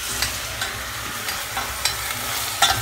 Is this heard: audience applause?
no